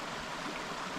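The stream at Oakley Mill Waterfall in the Shropshire Hills rushes in a steady, even wash of white water, close and continuous throughout with no voices.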